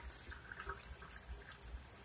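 Water poured from a glass canning jar into a kitchen sink, a steady splashing stream running for about two seconds with bright spattering and no voices.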